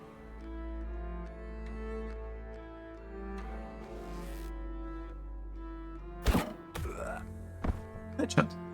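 Arrow headshots in Tainted Grail: Fall of Avalon, a stealth-archer fantasy game: a few sharp, dull thunks land close together late on, over a sustained, droning musical backdrop.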